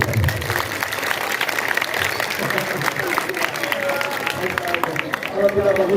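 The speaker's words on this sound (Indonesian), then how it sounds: "Tepuk tangan kalau bagus mah aku." Audience applause at an Isra Mi'raj religious talk, steady dense clapping from a crowd throughout, with some background voices and a lively hall atmosphere.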